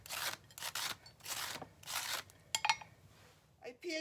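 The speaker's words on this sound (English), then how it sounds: "the potato peeler goes very well. And I'm going to shred the cabbage" A potato peeler shreds cabbage in a series of short rasping strokes, about five rhythmic scrapes close to the microphone, followed by brief crinkling and handling noises.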